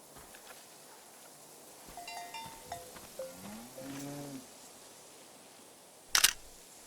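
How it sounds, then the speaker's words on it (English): A cow in the video game Season: A Letter to the Future gives a few drawn-out moos, moderately close over quiet outdoor ambience, followed by a sharp camera shutter click. "The name of this cow is TVC15, oh my."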